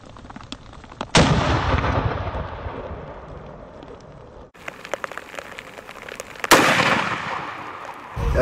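Two loud rifle shots while deer hunting in New Zealand, with a 7mm-08 or .300 Win Mag, each a sharp crack followed by a long rolling echo, over faint outdoor background noise and no talk.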